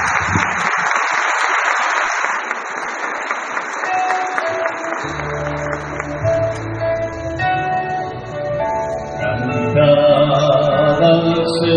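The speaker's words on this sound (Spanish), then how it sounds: "Les damos un fuerte aplauso" A church congregation applauds at a blessing ceremony, a dense burst of clapping that thins out as organ or keyboard music and singing begin underneath.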